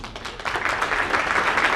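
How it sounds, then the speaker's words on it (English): At a Tiger Bay Club debate for House District 9, an audience applauds the moderator. The clapping is dense and moderately loud, thickening slightly after the first half second. "Please give a warm round of applause to our moderator,"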